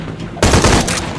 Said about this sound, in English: Confirm reports of more gunfire